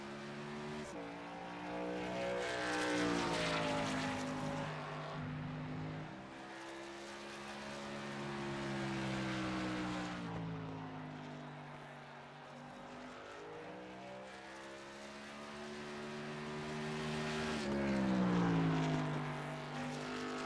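A race truck in an ORRL Rebels Truck Series race rolls out onto the racing surface, its engine droning steadily and rising and falling in pitch as it accelerates and eases off, fairly close and with no talking.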